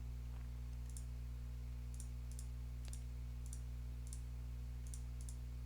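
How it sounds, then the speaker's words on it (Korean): Soft keys tapped on a computer keyboard while entering a word in an Android emulator, a few sparse clicks roughly a second apart over a steady low hum. "시푸드라고 입력해 볼까요?"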